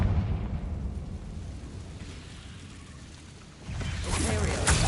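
A Confringo spell blast against a barricade in Hogwarts Legacy, a rumbling explosive roar that fades, then a fresh crackling burst near the end.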